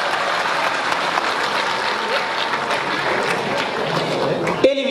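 An audience at a comedy performance at the INAS Award ceremony claps in sustained applause, a dense even patter of many hands that fills the whole stretch, with a voice audible over it.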